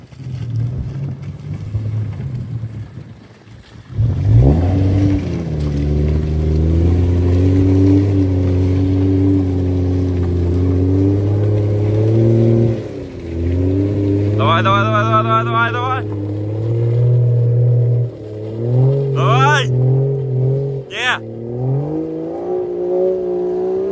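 A BMW F30 sedan revs hard while driving into a muddy bog, its engine rising and holding a strained, steady drone with pitch swings as it pushes through, under excited voices from nearby onlookers.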